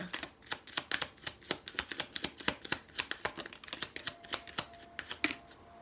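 Pure Love Oracle cards being shuffled, a quick, steady run of soft papery riffles and clicks close by, with no talking.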